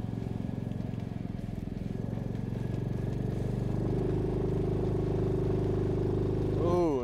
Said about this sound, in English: We're gonna try out the Jeep's crawler gear.